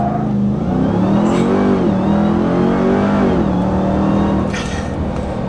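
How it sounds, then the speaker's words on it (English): A Ram 1500 TRX pickup launches at full throttle under launch control, its loud supercharged V8 roaring as it climbs through a gearshift dip and keeps rising, close and continuous. "activate launch control, apply brake pressure, apply full throttle, release brake"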